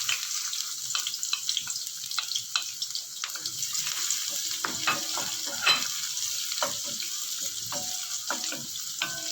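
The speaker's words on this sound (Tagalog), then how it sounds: "Lagay na natin yung ating sibuyas." Chopped onion and garlic sautéing together in hot cooking oil for a vegetable stir-fry, a steady close sizzle with scattered stirring clicks and scrapes, no voices.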